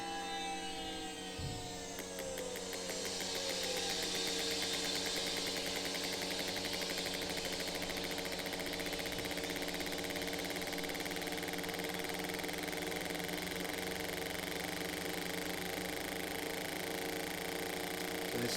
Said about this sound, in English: this one's just cycling through RPM, just simulating engine conditions where it's varying over a minute